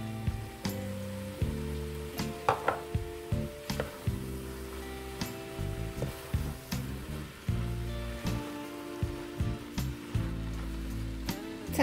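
Zucchini stews with bigos in a pan, giving a soft, quiet sizzle. Irregular ticking pops and spatters break through it, with no voices.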